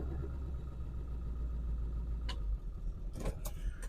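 A Cadillac engine idles in gear with a steady, low, continuous rumble, close and fairly loud, broken near the end by a few brief sharp clicks or knocks.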